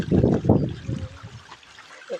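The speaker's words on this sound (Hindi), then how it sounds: "ये पानी पड़ रहा है नीचे।" Water from a jungle waterfall pours and splashes down onto rocks below, a steady wash under brief bursts of nearby talk that fade as the falling water carries on.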